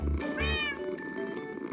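A cat in the video game Minecraft meows twice in quick succession, close and clear, followed by a softer trailing mew.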